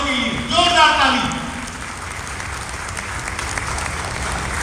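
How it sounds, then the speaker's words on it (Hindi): Audience at an Agrasen Jayanti gathering in Kantabanji clapping for two brothers, a steady wash of applause that carries on under a voice talking over the start. "एक बार जोरदार ताली दोनों भाइयों के लिए, जोरदार ताली"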